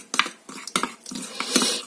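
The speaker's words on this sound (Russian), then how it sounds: "Теперь нам нужно очень тщательно все это перемешать." A spoon stirs a homemade face mask in a bowl, giving quick irregular clinks and scrapes close by, several sharp taps in under two seconds, with no talking.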